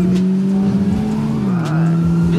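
A car in the video game GTA 5 speeds through a police chase, its engine droning loud and steady with a rising rev near the end, alone with no talk.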